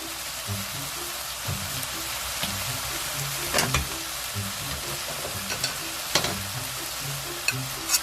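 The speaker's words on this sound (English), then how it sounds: "And stir fry." Pork with red pepper paste and milk stir-frying in a pan, a continuous sizzle broken by repeated scraping and clacking of a utensil against the pan, close and fairly loud.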